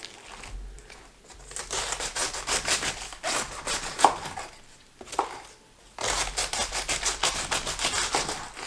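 Knife sawing through a head of cabbage for sauerkraut, rough rubbing and crunching strokes in several bursts with short pauses, close and moderately loud.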